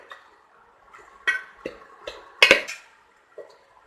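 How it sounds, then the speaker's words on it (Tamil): A spoon scrapes and knocks against a pan while mushrooms are stirred into a biryani masala, giving a few sparse clinks and taps close by. "நல்லா கிளறி விடுங்க."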